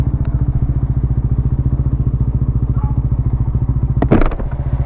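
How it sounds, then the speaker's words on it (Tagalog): Honda Sniper 150 V1 motorcycle engine built to superstock spec with a 57mm Pitsbike block and 32mm MVR1 throttle body idles steadily and close by with a fast, even thumping pulse, then a brief clatter near the end. "Nandito yung motor ng tropa."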